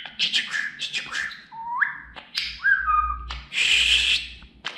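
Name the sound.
budgerigar chirping and whistling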